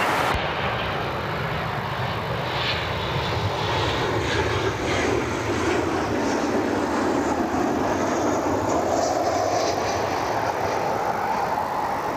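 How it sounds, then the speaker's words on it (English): Airliners including Southwest and United Express jets taxiing out at Cleveland Hopkins airport, a continuous broad engine roar and rumble heard from a distance with no one talking. "Southwest rolls out, United Express heads out."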